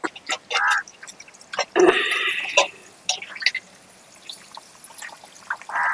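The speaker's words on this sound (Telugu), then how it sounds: "ఆ నీళ్లు పోసి ఇక ఉడికిద్ది" Water pours in short splashing bursts into a pot of coconut milk pulao as it cooks, with small drips and clinks between pours and some faint background noise.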